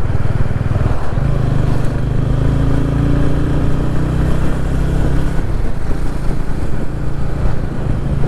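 A TVS Ronin 225 motorcycle with a pillion rider cruises on a road near Pune, its engine a loud, steady drone with a low humming tone and constant wind rush close to the mic.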